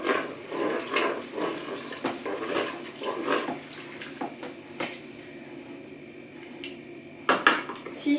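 Food is stirred one last time in a home kitchen pot, with a utensil scraping and clinking against the metal in irregular knocks. Faint water sounds and dish clatter sit underneath, and there is no talk.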